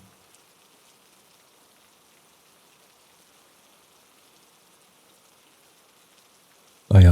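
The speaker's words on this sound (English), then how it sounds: "I was back to sitting alone in a truck, listening to the rain." Steady rain falls outside a parked truck, a soft continuous hiss heard from within at a low level, alone and unbroken until a sudden loud burst right at the end.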